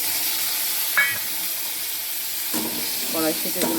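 Green peas sizzle softly in hot oil with whole cumin in a karahi, a steady close frying hiss with brief clinks of stirring and a few spoken words near the end.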